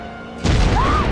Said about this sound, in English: They saw the explosion.